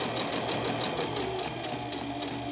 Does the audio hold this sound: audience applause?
no